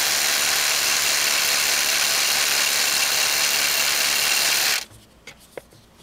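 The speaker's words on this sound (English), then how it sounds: "Still drilling." A Ryobi One+ SDS Plus brushless HP rotary hammer, model P223, drills with a loud, dense, steady roar for about five seconds, then stops abruptly, leaving only a few faint clicks and rattles.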